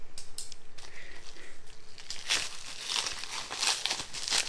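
Packaging crinkles and rustles as a layer is pulled off during an unboxing of gold and stickers, soft crumpling at first, then louder tearing and crackling bursts over the last couple of seconds, close by with no talk.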